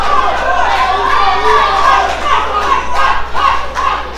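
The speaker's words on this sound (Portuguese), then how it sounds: "Está aí a torcida, tanto do Chaco quanto do Blindado, fazendo bastante barulho, torcendo aí para as duas atletas." A crowd of fans cheers at an amateur MMA fight, a continuous loud roar of voices with rising shouts and chants.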